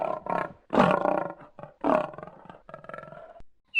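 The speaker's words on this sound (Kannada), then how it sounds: "ಮೆದುಳು ಕಾಣದಿದ್ದಾಗ ಅದು ಕೋಪದಿಂದ ಗರ್ಜಿಸಿತು" An angry lion roar used as a story sound effect: several deep, growling bursts in a rough rhythm, loud and close, with short pauses between them.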